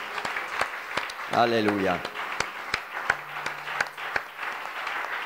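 A church congregation at an Italian evening service claps together, steady rhythmic applause running throughout, with a voice calling out over it near the start.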